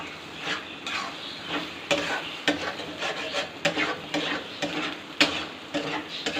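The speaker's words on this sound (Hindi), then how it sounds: "हम पहले अंडे अच्छी तरह पका लेंगे अपने मसाले के अंदर" Eggs cook in spice masala in a pan, sizzling softly while a utensil stirs and scrapes in irregular strokes. Occasional sharper clinks sound close by, with no talking.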